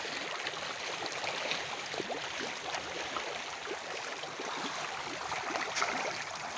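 River water flows over tilapia fish cages in a steady, broadband rushing wash that stays even and close from start to finish, with no voices.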